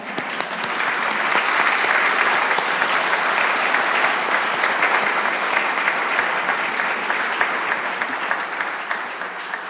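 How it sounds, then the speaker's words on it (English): A large audience at a medical school white coat ceremony claps steadily throughout, a dense, sustained wash of applause that stays loud without fading. "So I think that deserves another round of applause."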